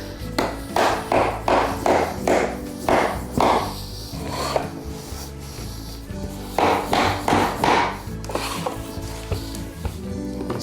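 Repeated wooden knocks in quick bursts from a hammering block tapping laminate flooring, a run of several taps, a pause, then another run, close and fairly loud with no talking.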